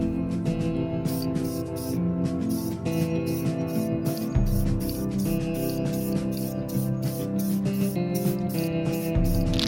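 Spray paint hissing onto the barrels of a car wheel during refinishing, in many short repeated bursts with brief gaps, close and steady, with no talk.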